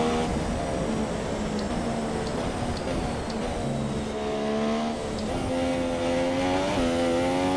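An F1 car engine in F1 2017 at the Bahrain Grand Prix, a loud, close, high-pitched whine that holds steady and then climbs in pitch as the lap begins, with no talking.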